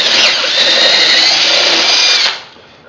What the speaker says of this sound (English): I happen to have a 1/2 inch paddle bit in here, but any bit would work. Going to enlarge a hole a little bit